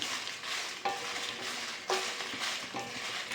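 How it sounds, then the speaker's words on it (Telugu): Dried red chillies frying in oil in a pan while being stirred for a coriander pickle, a steady close sizzle broken by a few sharp scrapes of the spoon against the pan. "ఇలా తిప్పుతూ వేయించుకుందాం ఇదిగోండి మిరపకాయలు వేగాయి"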